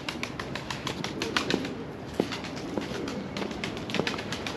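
Soft repeated wing flaps and short rustles from a nearby pigeon over a steady outdoor background, with a few sharper flutters standing out.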